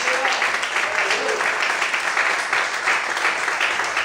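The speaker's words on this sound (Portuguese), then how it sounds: "Você pode aplaudir e glorificar o nome do Senhor nessa noite" A congregation at an evangelical church service applauds, a dense, steady wash of clapping that holds at even loudness for the full four seconds, with faint voices mixed in.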